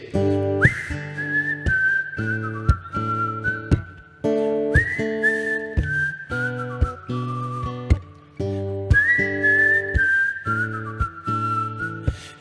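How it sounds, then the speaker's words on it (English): A person whistles a melodic tune alone, clear and close, with a repeating phrase of sustained and gliding notes over plucked accompaniment. "I'm pretty good at whistling"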